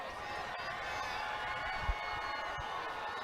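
At a high school football rivalry game between Rowlett and Sachse, a fired-up crowd keeps up a steady, distant roar of cheering, faint and continuous across the stands.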